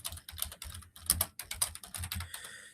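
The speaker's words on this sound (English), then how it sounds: "Let me type it." Fingers type on a computer keyboard in quick uneven bursts of crisp clicking keystrokes, close and fairly clear, with short pauses between runs.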